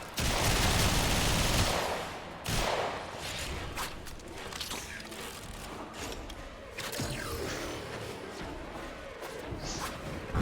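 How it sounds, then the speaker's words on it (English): Nova's blast-damage explosions in Warframe go off amid rapid gunfire. A loud, dense burst opens, then sharp cracks and booms crowd a busy combat mix. "It's Nova's explosion that's doing it, this blast damage"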